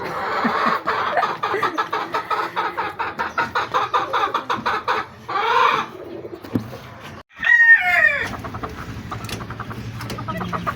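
Roosters crow loudly nearby amid a busy stretch of clucking, with one long, strained crow standing out near the end.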